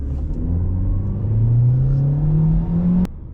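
A 2024 Hyundai Elantra SEL accelerating from 0 to 60 in sport mode with traction control off, its engine note rising steadily and loud for about three seconds before cutting off abruptly.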